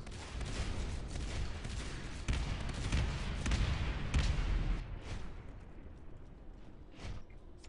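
Shotgun fire in the Natural Selection style marine-versus-alien match Round 5, a fairly faint series of sharp blasts in quick succession, the first half denser, thinning to a few isolated shots toward the end.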